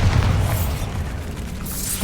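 Bombarda explosion spell in the Hogwarts Legacy video game: a heavy, rolling boom that starts loud and slowly fades, with a sustained low rumble and no voices.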